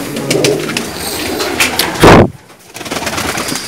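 Pigeons kept by a pigeon fancier coo in low, throaty calls under a busy near backdrop, with one loud close burst of rustling or flapping standing out midway.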